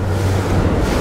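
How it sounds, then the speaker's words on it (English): Ocean surf waves wash around a luxury Italian RIB boat off a point, heard as a loud, steady rush of water and wind with a low engine drone beneath. "I got a couple of surf waves rolling around the point here"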